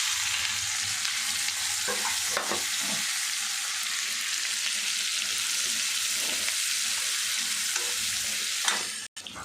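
Onion pieces fry in hot oil with cumin, shahi jeera, cinnamon, cloves and cardamom for an egg masala curry, a steady close sizzle with occasional stirring scrapes.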